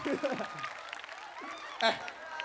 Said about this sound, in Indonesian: Tepuk tangan buat ibu gurunya juga dong.